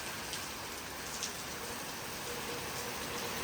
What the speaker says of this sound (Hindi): देख सकते हो बारिश अभी भी कितनी हो रही है।